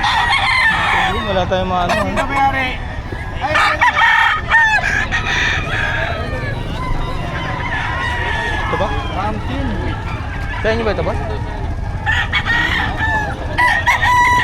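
Roosters crow repeatedly at a busy Friday animal market in Bocaue, loud and close under steady crowd noise, with someone talking over much of it.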